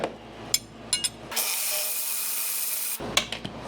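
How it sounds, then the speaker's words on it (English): Wrenches working on the bolts of a 1978 Silver Anniversary Corvette give a few sharp metallic clicks, then a steady, loud whirring run of about two seconds, followed by more short clanks and taps close by. "Let's give it the old double wrench action there."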